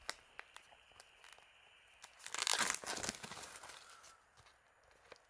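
Cardboard and plastic packaging of a Nosferatu special edition being unwrapped, a short burst of crinkling and tearing after a few light taps, close and fairly quiet.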